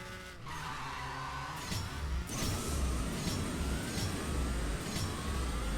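A drag race in the mobile game CSR 2, with the player's Supra engine revving hard and tires skidding and squealing at the start, building into a loud, sustained high-speed roar throughout.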